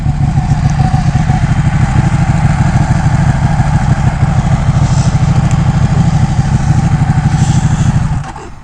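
A Ducati Panigale 1199 motorcycle engine runs close and loud outside a dealership, a rapid pulsing idle held steady for several seconds before cutting off at the end.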